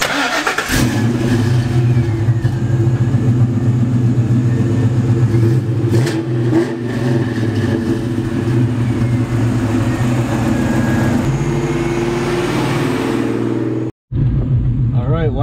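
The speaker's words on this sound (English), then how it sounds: "we're gonna give you one of the last cold starts on this car" A New Edge Ford Mustang V8 cold-starts with a sharp crank and catch, then settles into a loud, lumpy idle with rising revs in places. The rumble continues until a sudden cutoff near the end, and a voice is heard briefly.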